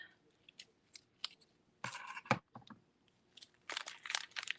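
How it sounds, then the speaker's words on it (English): Scissors snip through paper at a quiet crafting table. The crisp cuts come in short bursts, first a few separate snips and then quicker runs, close to the microphone with no talk over them. "I really need to get better scissors"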